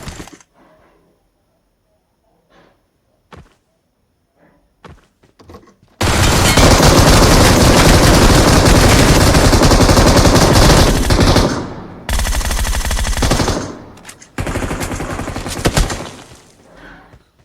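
M16 rifle fire aimed at robot opponents in PUBG Mobile: a few faint scattered shots, then long loud sustained automatic bursts with brief pauses between them, close and dominant, no talking.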